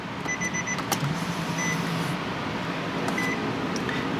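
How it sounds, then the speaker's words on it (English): A Nissan 370Z Nismo is switched on, fitted with a short shifter and no shift knob. A few short electronic beeps sound over a steady, close-up hum of the car's electrics and fans. "So we're gonna turn on the vehicle."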